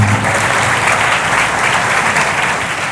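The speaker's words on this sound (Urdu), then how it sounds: "تالی بج سکتی اس بندے واسطے" A church congregation applauds at a gospel sermon, a steady, dense wash of clapping from many hands that fills the whole moment without pause.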